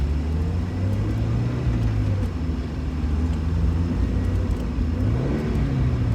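An overheating Mazda Miata's engine hums and revs from inside the car, a steady low drone that rises and falls slightly in pitch as the throttle is worked, with the heater running.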